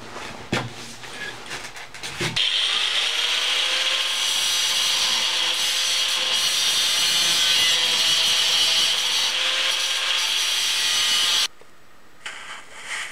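An old, damaged axe head is smoothed and rounded along its edges by a steady, loud abrasive grinding or sanding. After a few short scrapes the sound runs without a break for about nine seconds, then stops.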